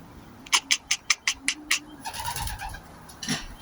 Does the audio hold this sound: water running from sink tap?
no